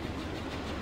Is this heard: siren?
no